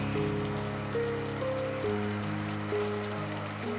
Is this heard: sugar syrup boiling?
yes